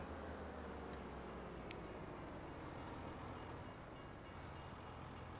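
A train in the farming game Farming Simulator 25 rumbles along in a constant, faint, steady wash of rolling noise with no voices over it.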